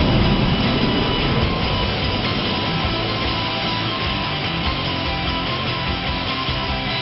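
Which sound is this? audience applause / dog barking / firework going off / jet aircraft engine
jet aircraft engine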